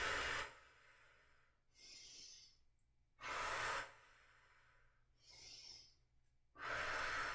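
Slow, deliberate breathing during a yoga breath-and-flow exercise: three long, loud, airy inhales alternating with softer exhales, each lasting about a second, close and rhythmic with no talking.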